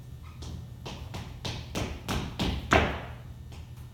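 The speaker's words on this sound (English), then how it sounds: "he heard a knock on his door" About a dozen evenly spaced knocks on a door sound in a quick, steady rhythm, clear and close, in a read-aloud telling of Anansi and Turtle.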